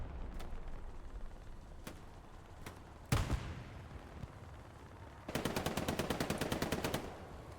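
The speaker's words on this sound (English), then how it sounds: "immediately get cleaned up by the machine guns back here" Machine gun fire in the Hold The Line video game during a tournament match: scattered single shots and a loud blast, then a long rapid, evenly spaced automatic burst.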